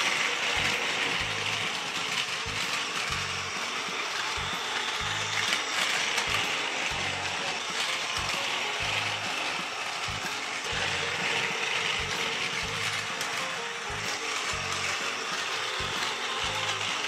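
A Plarail toy train runs on realistic-class curved track with grey piers, giving a continuous whirring motor drone and a regular clicking rattle of wheels over rail joints, steady and close throughout.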